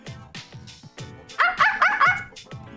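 Dogs barking in the video game Persona 3 FES, a run of sharp, evenly spaced barks with louder, higher yelping barks clustered in the middle, close and clear with no talk over them.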